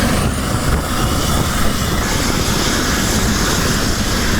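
A Basarnas Dolphin rescue helicopter in flight on a medical evacuation, a loud continuous rotor and turbine roar that stays steady and close throughout, with no voices.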